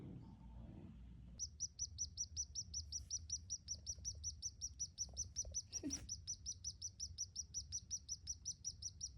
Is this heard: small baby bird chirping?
yes